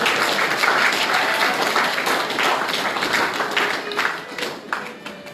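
Congregation at a funeral service in Toulouse breaking into loud sustained applause, dense clapping that fills the room and slowly thins toward the end, with voices mixed in.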